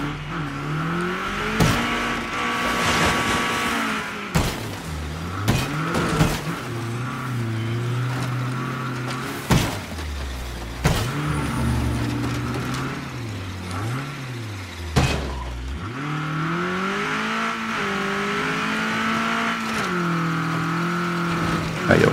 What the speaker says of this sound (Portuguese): Aí o carro é rápido, o carro é ágil e não bebe tanto.